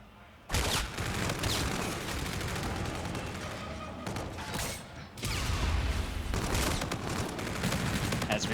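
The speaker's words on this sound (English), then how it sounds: "As we watch the gunfire," Dense, continuous gunfire from a video game in a professional CWL match rattles loudly and nearly nonstop, with a brief lull midway before the shooting resumes.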